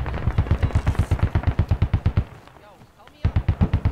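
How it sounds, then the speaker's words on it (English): Squad video game gunfire hammers in a fast, loud automatic stream of regular rapid shots, pauses briefly while a voice speaks, then resumes. "hearing shots west."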